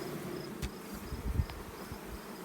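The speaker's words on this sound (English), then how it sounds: "It's a lot of fun when these bees are bringing honey in." Honey bees bring honey in: a faint, steady buzzing hum with a few soft thumps and nearby knocks.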